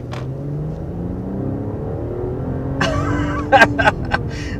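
A 2022 luxury sedan, Mercedes S-Class or BMW 7-Series, accelerates hard with a smooth engine note rising in pitch from inside the cabin, followed by a person exclaiming briefly near the end.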